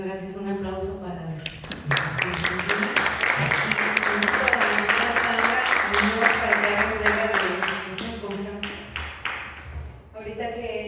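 Audience applause breaks out at a poetry talk, a dense crowd of claps that swells after a brief lead-in, holds for several seconds, and then fades near the end while voices murmur underneath.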